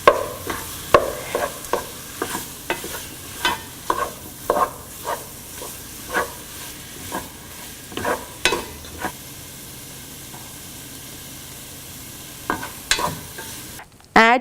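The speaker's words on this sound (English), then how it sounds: "at this stage, add diced tomatoes. Let it cook until the tomatoes are nice and soft." Diced tomatoes cooking in mutton curry masala in a pan, with a steady low sizzle under repeated scraping stirs of a spoon, close and moderately loud, and no voices.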